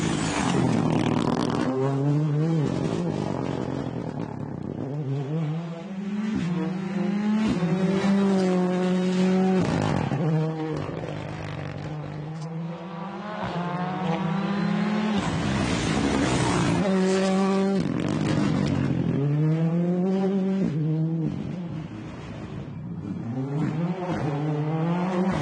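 Rally car driving flat out through a tarmac stage of the 2023 WRC Croatia Rally, engine rising and falling through repeated gear changes as it passes, loud and continuous with no talk.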